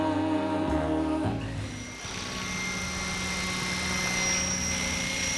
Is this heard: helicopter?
yes